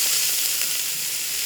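Mixed vegetables sautéing in hot olive oil for peanut noodles give a close, steady sizzle and crackle that holds even throughout, with no voices over it.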